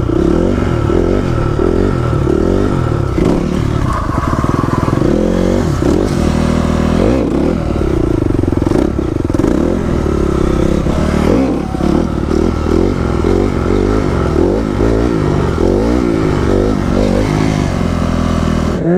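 A motorcycle revs hard during stunt riding, engine roaring loud and close for a long stretch with wavering revs, clattering and scraping throughout.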